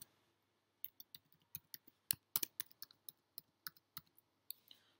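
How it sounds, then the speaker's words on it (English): Someone types a username and password on a computer keyboard, with about twenty quick, crisp key clicks in an uneven burst that stands alone against near silence. "Type the username and password here."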